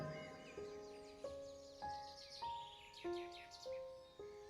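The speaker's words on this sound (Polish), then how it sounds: "Słyszysz śpiew ptaków" Several clear, whistled bird notes ring out one after another at a relaxed, even pace, each a short sliding tone, fairly faint with light chirping behind.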